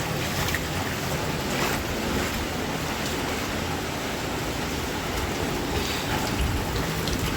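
Water churning and splashing steadily as someone wades through floodwater around a flooded home after Cyclone Remal, a dense continuous wash of sound close by, with no talking.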